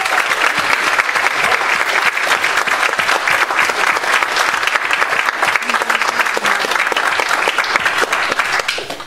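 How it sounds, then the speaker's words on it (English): A large church congregation claps steadily and loudly for several seconds, a dense, sustained round of applause. "if you'd give him a big round of applause"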